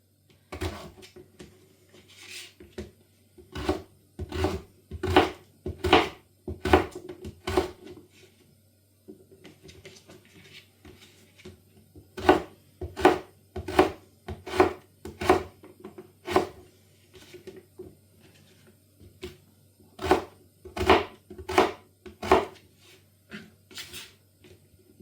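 A knife chops potatoes into thin chip-like strips on a board, with sharp cuts arriving in quick bursts of six to eight strokes and short pauses between runs. The chopping is close and clear, with no talking.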